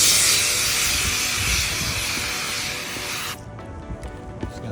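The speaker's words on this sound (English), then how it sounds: "first thing we do is spray down some benchmark base coat" Steady pressurized spray hissing as roof base coat is sprayed down for a seamless roof coating, about three seconds, close and loud, then cutting off to quieter background noise with faint clicks.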